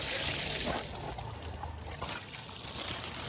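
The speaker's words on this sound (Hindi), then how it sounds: "इसके सलेंसर में पानी भरते हैं" Water pours into a police motorcycle's exhaust silencer, a continuous close trickling and gurgling hiss that runs steadily throughout.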